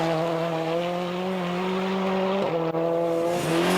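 A rally car from the 2000 Norwegian Rally Championship at Rallye Solør, formerly run by Petter and Henning Solberg and now driven by Odd Martinsson, holds high, loud revs with brief dips at gear changes.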